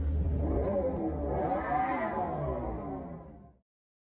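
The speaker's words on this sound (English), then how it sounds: "So that's where we get that engine rev sound." Sampled engine rev from a Dodge Charger Daytona, a loud, rising and falling mechanical roar with layered tones that holds steady for about three and a half seconds before cutting off abruptly.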